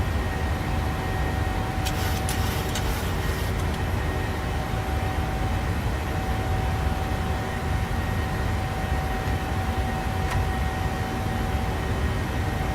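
Simulated Ryanair airliner taking off from Stansted in Microsoft Flight Simulator: a steady, loud, broadband engine roar that holds constant throughout, with a few faint clicks near the start.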